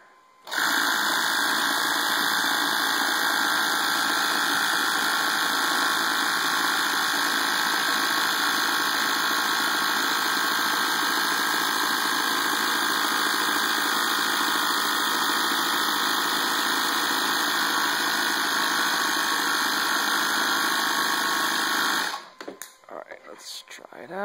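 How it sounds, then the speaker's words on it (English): Pump charging an air tank for an empty-can ejection rig, a loud steady mechanical drone running continuously for over twenty seconds before cutting off abruptly, followed by brief rustling. "So I'm going to charge up the tank for about 20 seconds"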